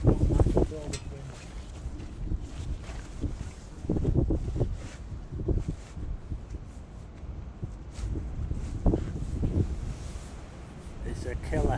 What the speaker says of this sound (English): This wind is not nice.